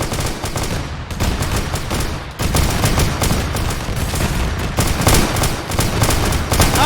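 A Space Marine firing a heavy bolter in a Warhammer 40K video game: loud, rapid bursts of heavy automatic fire hammer continuously with a brief pause near the middle, close and booming.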